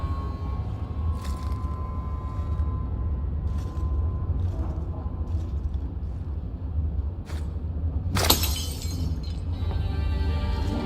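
A glass wine bottle shatters against a wall in Dragon Age 2, one sharp crash of breaking glass cutting through a low steady background hum, with fainter clinks earlier.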